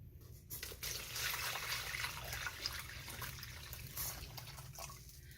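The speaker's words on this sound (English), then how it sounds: "So first thing going in is 6 cups of water." Six cups of spring water pour into a crockpot for oatmeal, a steady, close splashing stream that runs for several seconds.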